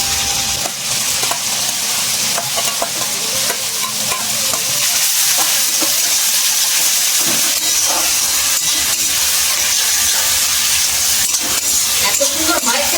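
Mashed tomato and eggplant frying with browned onion and garlic in a pan, a steady loud sizzle and hiss with stirring scrapes throughout, no talking.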